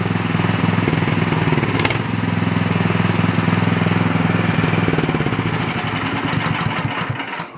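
A snowblower's small engine idles with the choke fully off, running lean and hunting. It gives a loud, continuous close-up drone that wavers slightly in speed, alone, with no talking.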